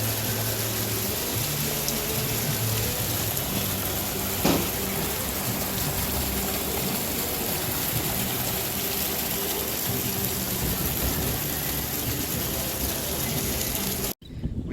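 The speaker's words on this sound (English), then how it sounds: "We had a lot of rain today" Steady spring rain in Georgia pours down continuously, a dense hiss with dripping and splashing close by, ending abruptly near the end.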